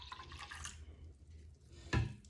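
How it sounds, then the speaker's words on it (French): Room-temperature milk, about 600 ml, being poured into a pitcher in a home kitchen: quiet liquid trickles and drips, then a brief, louder splash near the end, with no talking. "Il va nous falloir 600 ml de lait à température ambiante que l'on va mettre dans notre"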